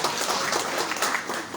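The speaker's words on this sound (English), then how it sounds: "Please give them a round of applause." An audience at a grand entrance event bursts into brief applause, a dense wash of clapping that fills the moment, fairly faint.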